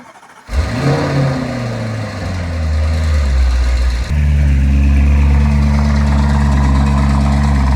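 The engine of a Land Rover Defender with an electrical fault cranks and catches, revs up, settles, then rises to a loud, steady, deep idle close by.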